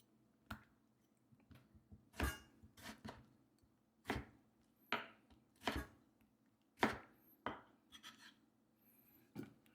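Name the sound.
knife slicing tomatoes into pieces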